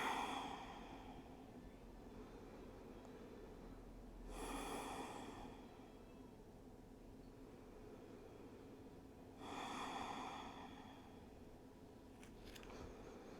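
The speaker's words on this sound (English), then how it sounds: "Breathing in and out." Slow, deep breaths in a yoga child's pose during an intermediate vinyasa session, two long audible exhalations a few seconds apart over quiet room tone, with no talking.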